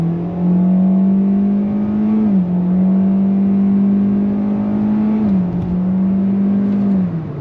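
A 2023 Kia Soul in sport mode accelerates on throttle, its steady engine drone from the CVT dropping briefly at two simulated gear shifts; the sound is loud, continuous and close, with no talking.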